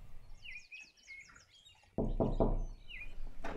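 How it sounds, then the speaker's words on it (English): Three quick, loud, close knocks on a door cut through light chirping birdsong, evenly spaced in a short burst, with the birds continuing faintly before and after. "And as always, three knocks."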